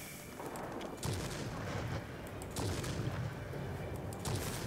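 Aircraft cannon fire from a Ju 88 heavy fighter with a 37mm or 50mm gun in World of Warplanes, heard as repeated heavy thumping bursts over a steady engine drone, with no one speaking.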